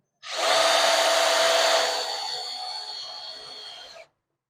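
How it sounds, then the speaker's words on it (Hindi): An AEG power drill bores into thick 4-5 mm metal angle in one continuous four-second run. It starts with a loud, close, harsh grinding whine that eases slightly in level before it stops abruptly. "तो यहाँ पे हम ड्रिल करते हैं।"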